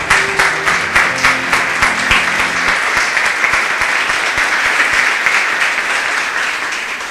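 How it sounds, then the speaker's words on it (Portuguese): A church congregation claps along during a worship service, producing a dense, loud, steady wash of many hands clapping together, with a faint musical tone underneath at first. "Louve a Ele com suas palmas,"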